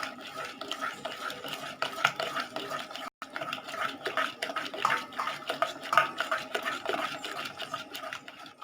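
Rava dosa batter of semolina and curd is stirred in a bowl, giving repeated wet scraping and clinking strokes in an uneven rhythm, close and fairly loud, with a brief pause partway through.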